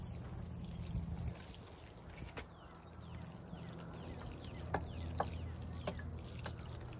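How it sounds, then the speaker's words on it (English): Water poured onto soil in a seed starting tray, a soft, quiet trickle and dribble with a few faint drips, close by and with no talk. "Now I'm going to water the soil so the soil will be good and wet when I put the seeds in."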